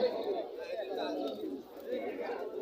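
White Baghdadi homer pigeons at a market coo softly with low burbling calls, heard close beneath a man's conversational speech.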